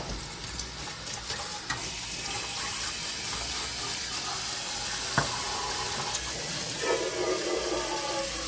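Tap water runs steadily into a kitchen sink as dishes are washed, a soft continuous hiss broken by a few faint clinks and splashes.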